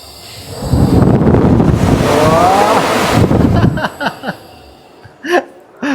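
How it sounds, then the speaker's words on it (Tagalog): An air shower blasts a strong, loud rush of air for about three seconds, then cuts off, leaving chuckles and short bursts of laughter and voices. "Air shower."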